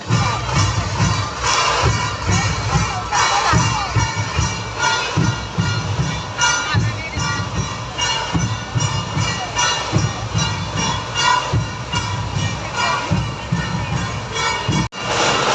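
Large crowd at an MNS Konkan festival rally at Kamgar Maidan, Parel, Mumbai, cheering and shouting continuously, a loud dense roar of many voices with whistles and shrill cries throughout.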